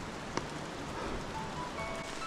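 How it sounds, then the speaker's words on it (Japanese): Heavy rain falling at Iwaya-ji, a mountain temple on the Shikoku pilgrimage in Kumakogen, Japan, a faint, even patter and hiss with one sharp tap near the start. "岩屋寺の参拝は大雨の中だったのでなかなか大変でしたけど"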